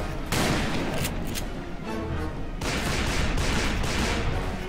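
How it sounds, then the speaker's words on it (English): Heavy booming blasts of cannon fire in Call of Juarez: Bound in Blood, a few loud bursts with rumbling decay between them, no talking. "They must have been pounding our house with cannons."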